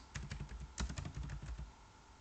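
Rapid keystrokes on a computer keyboard, typed in a quick burst of irregular clicks that trails off after about two seconds, close and fairly quiet with no voices.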